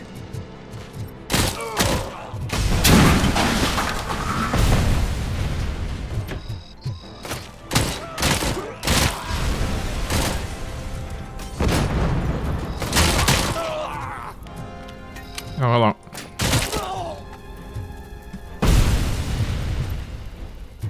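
Automatic gunfire in the video game RoboCop: Rogue City, loud repeated bursts and booming shots in clusters across the stretch, with brief gaps between volleys and faint voices underneath.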